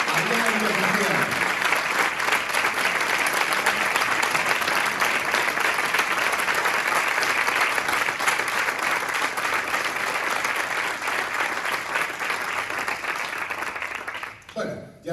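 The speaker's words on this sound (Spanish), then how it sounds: "pediría así un fuerte aplauso hacia el cielo" A crowd gives long, loud, sustained applause, a dense steady wash of clapping that carries on unbroken before tapering off and giving way to a voice at the end.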